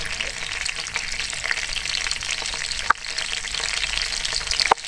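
Cumin and carom seeds sizzle in hot oil, a close, crackling fry that keeps going throughout, with two sharp clinks of a utensil against the pan.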